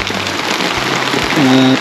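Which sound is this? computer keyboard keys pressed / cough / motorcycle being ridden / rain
rain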